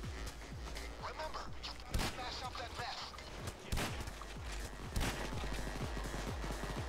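Gunfire in the heist video game Payday 2, Lab Rats Halloween heist: rapid, dense bursts of shots fill the clip, with a few louder cracks standing out over a steady clatter, and no talking.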